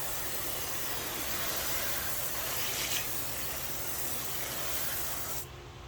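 A steady rush of water spraying onto a car wheel to rinse off wheel cleaner, a continuous close hiss that holds evenly for several seconds before cutting down near the end, with no talking.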